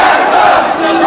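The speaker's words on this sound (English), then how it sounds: "Crowd going at each other as this matchup" A dense wrestling crowd roars and shouts continuously during the Steen vs Daniels match, a loud, unbroken wall of voices filling the arena.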